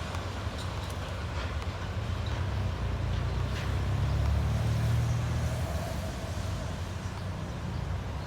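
Two DD51 diesel locomotives haul a stone freight train past, a continuous low engine rumble and rolling wagon noise that swells in the middle and stays steady without speech.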